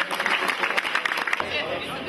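An audience at a first aid competition claps in a short, dense burst that stays fairly close and loud, with crowd murmur mixed in before it thins out.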